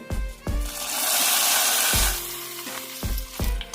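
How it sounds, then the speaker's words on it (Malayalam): Loud sizzling and spattering as mustard seeds, curry leaves, dried red chillies and fenugreek hit hot oil, a bright crackling hiss swelling and easing, with a few knocks of a spoon against the pan. "ഇനി ഇതിലേക്ക് താളിച്ചിടാം കടുക് കറിവേപ്പില ചോന്നമുളക്"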